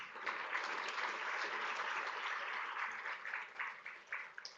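Summit audience applauding, a steady wash of clapping that holds for several seconds then thins into scattered, uneven claps as it fades out.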